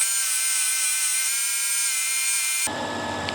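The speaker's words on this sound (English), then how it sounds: "So this is actually a pretty nice sharpener. Work Sharp Ken Onion Edition." A Work Sharp Ken Onion Edition belt sharpener grinds a fillet knife on a medium belt, giving a steady, close, high-pitched whine that runs evenly and then cuts off abruptly near the end.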